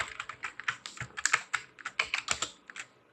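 Computer keyboard keys clatter in a fast, irregular run while code is typed into an IDE, with crisp close clicks and no voices.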